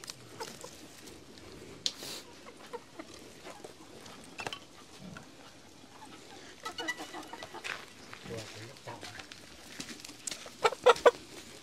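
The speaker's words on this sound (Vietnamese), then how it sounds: "Con đấy gà mái là mình để nuôi à?" A hen clucks repeatedly at close range on a rural Vietnamese homestead, irregular bursts of clucking with other farm noises and brief voices in the background.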